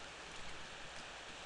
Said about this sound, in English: it is in fact raining